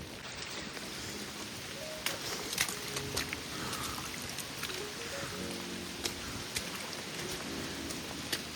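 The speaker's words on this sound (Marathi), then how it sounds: "हवा, पाऊस" Steady wind and rain on the trail from Panhala to Pawankhind, a continuous broad wash with a few sharper drop and gust spikes throughout, no voices.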